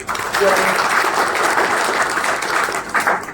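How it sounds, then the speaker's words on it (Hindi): Applause from party workers at a Congress election meeting in Jhunjhunu, a full, steady round of clapping from a packed room with a brief voice heard near the start. "जोरदार तालियों से"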